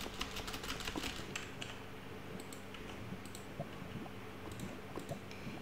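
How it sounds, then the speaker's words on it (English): Computer keyboard keys click during Minecraft play in scattered quick bursts and single taps, faint and close, over a low background hum with no talking. "Sorry if my keyboard sounds really..."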